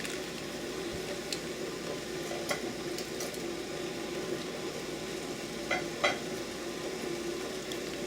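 Chinese hot pot broth bubbles with ginger and big pieces of green onion, a quiet steady simmer and sizzle with a few faint clinks and taps on top.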